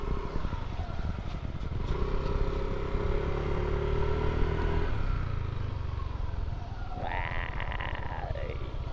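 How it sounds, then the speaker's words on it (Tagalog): Motorcycle riding past outdoors, a steady engine drone with a rising then falling pitch sweep near the end as it passes close by, fairly loud and alone without speech. "Ang ganda ng motor ah."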